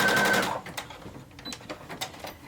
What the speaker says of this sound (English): I put it right over the seam allowance, and I do a zigzag stitch right over it